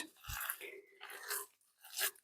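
Soft wet squelching and squishing from hands kneading raw burger mince, close up and fairly quiet, in irregular bursts.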